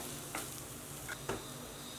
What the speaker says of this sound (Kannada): ಕಾಲು ಟೀ ಸ್ಪೂನಷ್ಟು ಅರಿಶಿನ ಹಸಿಮೆಣಸಿನಕಾಯಿ ಎಲ್ಲ ಚೆನ್ನಾಗಿ ಫ್ರೈ ಆಗಿದೆ